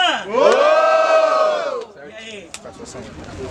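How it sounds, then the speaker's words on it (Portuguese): A crowd at a student rap battle roars in a loud burst of cheering and shouting that peaks and then fades into scattered yells and a voice. "Muito barulho pra quem gostou das rimas da Nicole"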